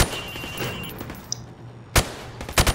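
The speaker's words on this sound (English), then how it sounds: "shoot at the targets while firing from the hip" Rifle fire from the hip at range targets in Call of Duty: Modern Warfare Remastered, a loud burst of close shots at the end after a stretch of game ambience.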